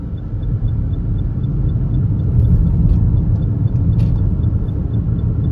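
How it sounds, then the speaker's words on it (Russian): A car cruising along a seaside embankment road and heading into a tunnel gives a steady, loud low rumble of engine and tyres that swells slightly midway, with faint ticking and no talk. "О, в туннель сейчас поедем."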